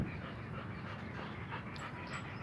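A dog pants quietly in quick, steady breaths, close to the microphone and fairly faint, with no talk over it.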